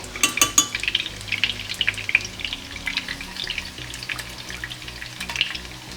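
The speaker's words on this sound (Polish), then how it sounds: "Ja dodam wody i, i dodam do tego dwie łyżeczki mojej bulionetki" Water and bouillon heat in a pan for a pepper sauce, bubbling and sizzling loudly up close with crackling pops and occasional stirring scrapes throughout.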